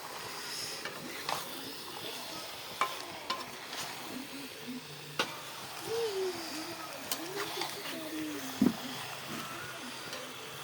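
Spice masala sautéing and being stirred in a pan, a soft steady sizzle broken by scattered scrapes and clinks of a spoon, with faint bird coos in the background.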